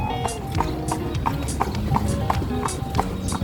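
Hooves of a horse pulling a carriage clip-clop in a steady, even rhythm close by, with continuous background noise and no clear talk.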